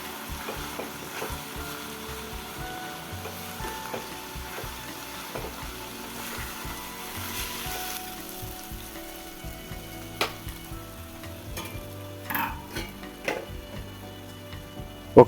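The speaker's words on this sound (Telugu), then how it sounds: "దీంట్లో కొద్దిగా ఉప్పు, దాంతోపాటు మనం రెడీ చేసి పెట్టుకున్న మసాలా ఏదైతే ఉందో దాన్ని వేసుకొని దీన్ని నీట్గా మిక్స్ చేసుకోవాలి." Ridge gourd pieces with salt and masala are stirred in a sizzling pan, with continuous frying hiss and soft, frequent spatula scrapes close by and nobody talking.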